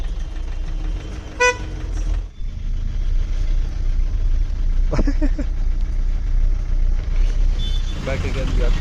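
Traffic heard from inside a cab stuck in slow holiday traffic on the road to Moir Point viewpoint in the Kodaikanal hills: a steady engine and road rumble, with a few short horn toots breaking through and voices talking now and then.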